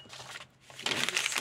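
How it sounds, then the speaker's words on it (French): Paper is crumpled into a ball by hand, giving a close, loud crackling and crinkling burst after a quieter rustle. "ça me fait encore une bonne petite boule de papier en moins"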